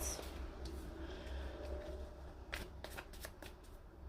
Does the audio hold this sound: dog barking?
no